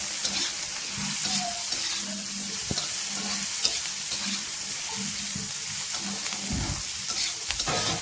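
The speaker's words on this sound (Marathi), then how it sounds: "एक टोमॅटो बारीक चिरून टाकलेला आहे, तोही व्यवस्थित परतून घेतो आपण याच्यामध्ये" Onion and finely chopped tomato sautéing in a pan for okra bhaji, a steady close sizzle with spatula stirring and scraping throughout.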